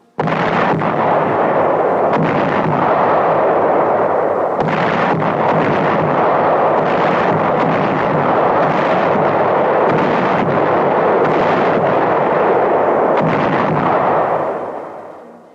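Artillery guns firing on Munda in the South Pacific during WWII, heard as a dense, loud, continuous roar of booming blasts that rolls on without a break.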